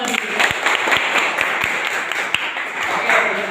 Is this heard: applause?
yes